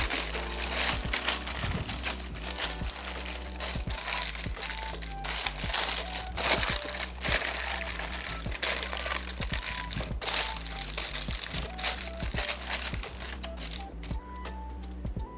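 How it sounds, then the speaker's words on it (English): Sharp, irregular crinkling and crackling of stiff parchment paper being pressed into a springform pan, close up, with a low steady hum underneath. "I'm gonna take now a piece of parchment paper."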